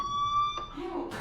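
A fire alarm in the video game Life Is Strange sounds a steady, loud electronic tone that cuts off partway, with a voice beginning to speak near the end.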